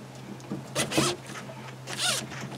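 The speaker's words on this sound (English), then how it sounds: "And run the zipper." A zipper is run along the joined edges of a conveyor dryer belt on a homemade mini conveyor dryer, two quick rasping pulls about a second apart, close and clear over a low steady hum.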